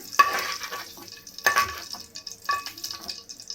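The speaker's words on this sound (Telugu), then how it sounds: "కొంచెం పచ్చివాసన పోయేటట్టు నేను ఈ విధంగా ఫ్రై చేశాను" Mushrooms fry in a pan with a light sizzle, broken up by three sharp scraping stirs spaced about a second apart, close and fairly quiet, with no talking.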